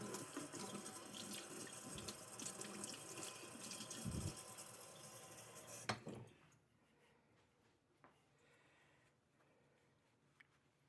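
Water from a tap runs loudly into a sink as a straight razor is rinsed, a steady gush that cuts off abruptly, leaving a few faint drips and clicks in a quiet room.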